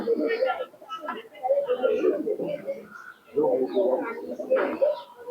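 Giribaz pigeons from Murshidabad cooing in soft, repeated throaty phrases, grouped in two bursts separated by a short pause, heard up close.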